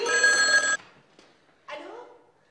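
An old telephone rings in a home, a loud buzzing bell burst lasting under a second, then after a short gap a voice speaks briefly nearby.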